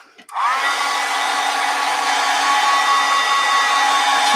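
A hair dryer switches on after a brief click and then blows at a loud, steady whir to dry a watercolor painting of snowdrop flowers, close and continuous with no talk.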